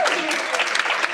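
A luncheon audience at a Women in Business event breaks into applause, a full, even roar of many hands clapping in a hall, lasting the whole short moment.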